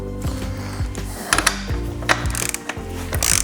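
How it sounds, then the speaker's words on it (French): Torque wrench ratcheting as it tightens a motorcycle wheel axle to 100 Nm, a close series of rapid mechanical clicks in repeated strokes, followed by a sharper click near the end. "Je prends ma clé dynamométrique pour pouvoir la serrer au couple prescrit par le constructeur."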